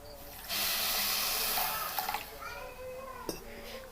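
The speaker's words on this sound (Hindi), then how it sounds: "थोड़ा सा पानी डालेंगे इसके अंदर।" Water is poured into a wok holding a cup of sugar to make syrup for sesame revdi, giving a steady loud hissing pour of about three seconds, then quieter bubbling and a faint clink.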